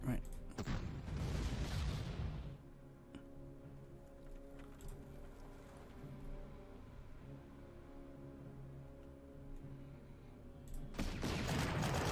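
Artillery fire in the video game Panzer Corps: a loud rumbling barrage at the start, a quiet stretch with a faint tonal hum, then another heavy burst of booms at the end.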